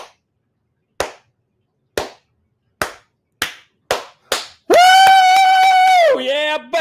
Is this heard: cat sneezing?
no